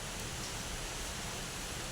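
Heavy rain pouring down outdoors, a steady, even hiss that fills the whole moment with no breaks and no voices.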